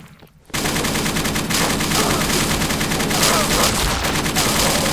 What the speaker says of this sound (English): But with the M60's crazy sustained fire